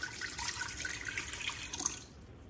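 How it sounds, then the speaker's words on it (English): About a cup of water is poured into an Instant Pot, a brief close splashing pour that lasts about two seconds before it stops. "I add about a cup of water to the Instant Pot."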